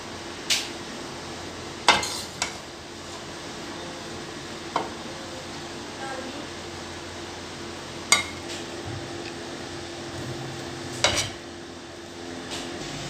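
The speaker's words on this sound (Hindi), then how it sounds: "अब चावलों को हम करेंगे डिश आउट" Beef pulao rice is served out of a cooking pot: a low steady background broken by a handful of sharp metallic clinks and scrapes of a spoon against the pot, spaced several seconds apart.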